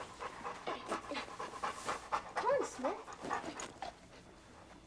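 A dog pants heavily and whimpers while lying on a couch in a home at night, the rhythmic breathing and high whines running throughout as people talk nearby.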